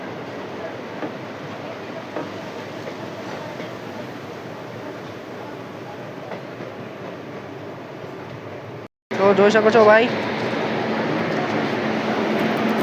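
Porbandar-Rajkot express train at a station, a steady rumbling rail noise with wheel clatter, cutting briefly to silence before a louder, nearer stretch with squealing and a low hum; someone talks over it.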